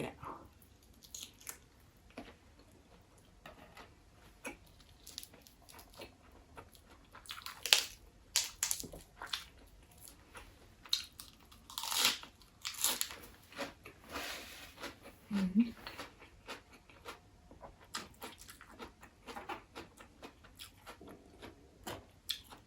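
Someone eats Isan sausage, giving soft, irregular chewing and crunching sounds up close at low volume, with a few faint bits of speech now and then.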